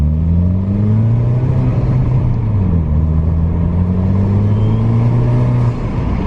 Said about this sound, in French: c'est le moteur qui fait plus de bruit que l'échappement comme ça